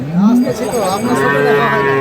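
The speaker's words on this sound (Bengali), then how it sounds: "গোটা বাজারে সেরা গরু সেরা গরু" An improved-breed dairy cow moos at the Khochabari cattle market, one loud, close, drawn-out low call that rises and wavers for about two seconds.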